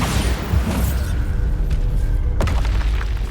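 A Bombarda blasting spell goes off in Hogwarts Legacy with a loud deep boom, followed by a rumbling tail and a sharp secondary crack partway through.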